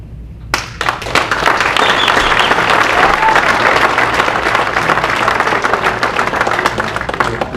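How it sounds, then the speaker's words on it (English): Audience at a Realtor Association mayoral candidate forum bursts into loud, sustained applause after a brief pause, many hands clapping densely and evenly throughout. "The Nixon supporters would please hold off on the clapping after everything Mr. Nixon says"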